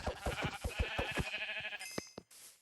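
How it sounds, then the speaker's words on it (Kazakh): Blocky Minecraft sheep bleat in the video game, a quick run of short, clipped bleats repeating in a choppy rhythm, then a few longer tones and game sounds closing out the moment. "Мына қойлар жүр екен"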